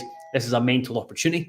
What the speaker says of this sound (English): Sorry, that's my doorbell going.